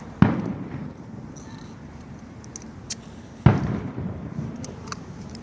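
Two fireworks burst a few seconds apart, each a sharp nearby boom trailing into crackle and rumble, with quiet outdoor crowd noise between them.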